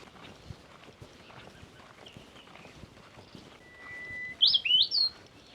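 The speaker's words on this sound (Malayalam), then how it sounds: "ഇതിൻ്റെ ഇടയിൽ നിന്നൊക്കെ ഏതൊക്കെ പക്ഷികൾ ശബ്ദം ഉണ്ടാക്കുന്നുണ്ട്" Birds call in a bamboo forest at a botanical garden, with a thin whistle followed by a quick burst of sharp, bright chirps near the end over soft rustling and footsteps.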